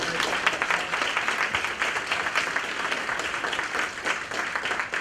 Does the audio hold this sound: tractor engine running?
no